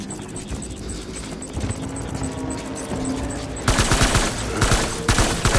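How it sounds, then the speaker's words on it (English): Video game gunfire in Death Stranding, with rapid automatic bursts over a busy combat background that grow sharper and louder in the last two seconds. "Taking fire! Open fire!"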